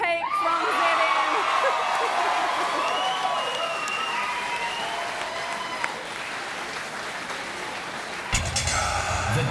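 A live awards-ceremony audience at the 2014 NZ Radio Awards bursts into sustained applause with whoops and cheers for winner Dan Peake, loud and dense throughout, fading slightly before a brief fresh surge at the end.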